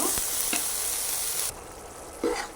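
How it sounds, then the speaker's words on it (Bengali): Onion and green chilli paste fries in hot oil with a steady, close sizzle that softens partway through, broken by a few sharp scrapes of stirring. "ওটা তেলে ভালো করে ভেজে নিব"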